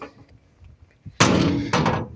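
Metal door of a generator enclosure housing a Weifang K4100ZD engine opens with a soft thunk, then loud rattling clatter and a second bang close by.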